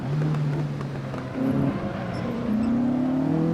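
A heavy race car in a Monaco racing video game revs steadily, its engine pitch dropping and climbing again as it works through a hairpin toward the tunnel, loud and close throughout.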